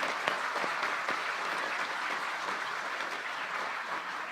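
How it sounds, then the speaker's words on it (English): Audience applause at a public event, a steady, dense round of clapping from a sizable crowd that holds at an even level throughout with no voices over it. "he deserves a very robust round of applause for all the work that"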